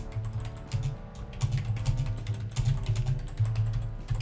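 Rapid typing on a computer keyboard as a chat message is entered, with bursts of close, crisp key clicks separated by brief pauses.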